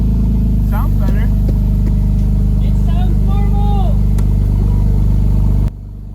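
A 1991 Honda CRX four-cylinder idles steadily right after being restarted, a loud, close, even engine drone. Birds chirp above it and a voice speaks briefly, then the engine cuts to a quieter tone near the end.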